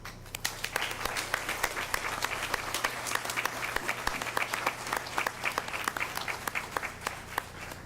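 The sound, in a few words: applause saluting valedictorians and salutatorians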